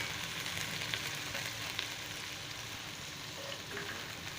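Onions and green chilies frying in oil for egg fried rice, a close, steady sizzle with crackling pops and faint stirring, no voices.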